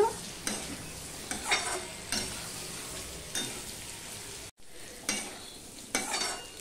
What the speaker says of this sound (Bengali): নুন হলুদ কাঁচা লঙ্কাটা দিয়ে আমি আলুটাকে ভালো করে ভেজে নিচ্ছি